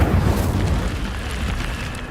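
The Incendio fire spell cast in Hogwarts Legacy, a loud booming whoosh of flame bursting at once and rumbling as it fades over a couple of seconds.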